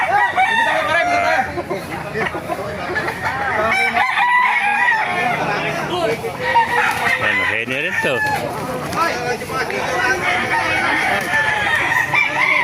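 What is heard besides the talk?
chickens and roosters crowing at a market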